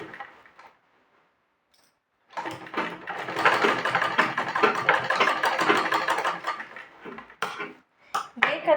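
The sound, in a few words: sewing machine stitching a blouse sleeve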